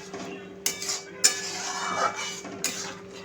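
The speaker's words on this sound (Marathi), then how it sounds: "हा छान असा मॅश करून टाकायचा आहे." Spoon mashing an ingredient into carrot halwa in a pan, a few distinct metallic clinks against the pan over a soft continuous sizzle.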